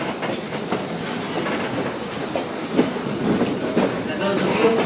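A heritage excursion train runs along the line near Strasburg, carrying steady wheel-on-rail rumble and clatter throughout with a few sharper knocks, heard from on board at moderate loudness.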